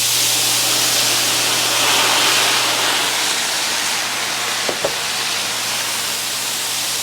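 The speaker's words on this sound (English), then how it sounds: "And the grill will just clean itself. You get a nice little steam, just don't get any on you." Purified water hissing into steam on a hot stainless steel griddle, a steady loud broadband sizzle lasting several seconds with a brief sharper crackle near the end.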